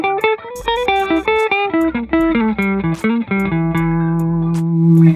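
Electric guitar run through a Blues Driver distortion pedal model in BIAS FX software, playing a neo soul phrase of quick, bright, plucked notes and chords that ends on a sustained ringing chord, with no voices.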